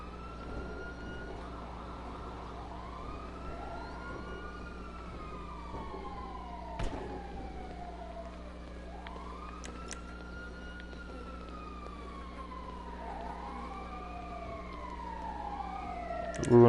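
Several emergency sirens wail in overlapping rising and falling sweeps from a fire truck and other vehicles, moderately distant, over a steady low engine hum with a few sharp clicks.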